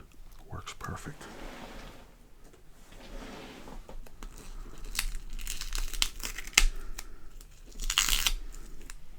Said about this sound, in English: This medical tape works perfect.